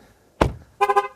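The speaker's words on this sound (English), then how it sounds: "it's warning me that I've just left my keys in the car" Vauxhall Ampera hatchback sounding its keys-left-in-car warning: a sharp thud-like blip, then a short burst of four quick pulsing horn-like toots, close and clear with no talk.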